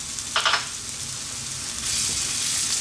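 Garlic and ginger sizzle in a hot pan during Filipino home cooking, a steady, soft crackling hiss that swells louder toward the end, with a brief brighter burst of spatter early on.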